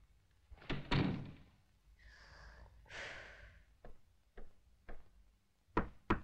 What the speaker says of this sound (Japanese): アーデルハイド、またノックを忘れましたね